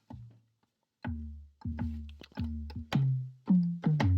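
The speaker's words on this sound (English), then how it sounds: "it's that bouncy sound that you hear in most trap beats that sounds like this" A series of deep, booming 808 bass notes in a trap beat, with sharp attacks and gliding tails, played as a bouncy rhythmic pattern of about eight hits.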